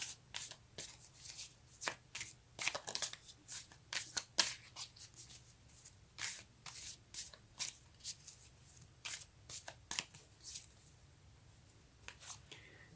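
Tarot cards for a reading are shuffled and drawn in a quiet room, with repeated soft riffling bursts and crisp snaps of card stock separated by short pauses.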